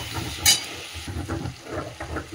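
Ground turmeric, coriander and cumin fry in a pan as the spice paste is cooked down, a soft, low sizzle broken by rhythmic stirring scrapes, with no voices.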